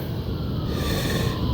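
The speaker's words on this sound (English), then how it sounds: "You hear the sirens in the background?" Faint wailing sirens drift in from far off, a steady wash of distant emergency noise with no talking.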